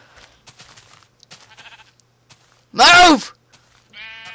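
A black sheep in Minecraft gives one loud, wavering bleat, short and close, between bursts of a man's speech before and after it.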